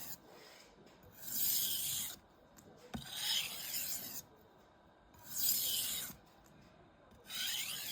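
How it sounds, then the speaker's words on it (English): A knife blade is drawn along a honing rod to remove burrs from the edge, giving repeated rasping strokes about every two seconds, each a bright scraping sweep separated by quieter pauses, close and clear with no talk. "we'll use a honing rod to remove any burrs on the blade edge"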